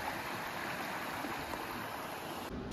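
River water flowing in Minecraft: a steady, broadband rushing and gurgling wash that holds at an even level throughout, with no voices.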